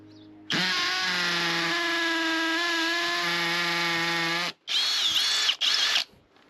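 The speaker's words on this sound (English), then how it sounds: "Let's try a slightly bigger masonry drill bit." A power drill fitted with a masonry bit bores a hole, a loud, steady high whine running for about four seconds, then two shorter bursts after a brief stop.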